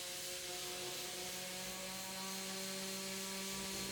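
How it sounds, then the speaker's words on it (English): A Bosch orbital sander with 180-grit paper hums steadily against a wooden 1970s drum table, removing old finish, a continuous whirring with a rough rubbing hiss, close and even with no pauses. "used my Bosch orbital sander with a 180 grit"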